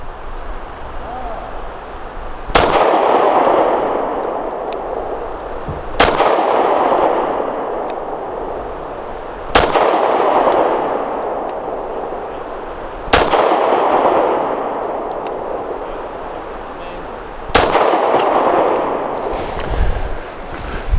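A ported Taurus GX4 pistol fires PMC Bronze 115 grain ammunition at an outdoor range, five sharp, loud shots spaced a few seconds apart, each with a ringing decay.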